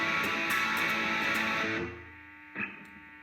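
A distorted electric guitar chord rings out, then cuts off and fades, followed by one quieter strum of higher notes near the end.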